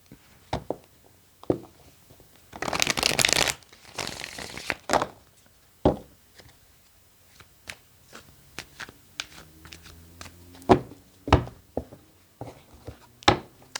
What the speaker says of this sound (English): now you get to see how I shuffle.